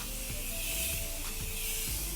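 Morphe Continuous Setting Mist sprays onto a face in a continuous fine, close hissing mist lasting a couple of seconds, with nothing else heard.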